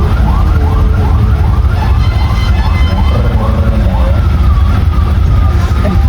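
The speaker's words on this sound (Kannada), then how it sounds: "ಅಲ್ಲೊಂದು ಆಂಬುಲೆನ್ಸ್ ಸೌಂಡ್ ಕೇಳ್ತಿರ್ಬೋದು" An ambulance siren wails loud and close in Bengaluru traffic, its rising and falling sweeps repeating steadily over a dense rumble of engines.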